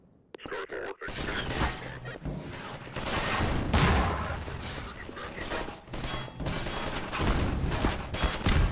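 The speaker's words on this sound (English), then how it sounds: "Overwatch Standard Issue. Pulse Rifle." Overwatch Standard Issue Pulse Rifle from Half-Life 2 fires in dense, sustained bursts after a brief quiet start, loud and close, with a speaking voice mixed in.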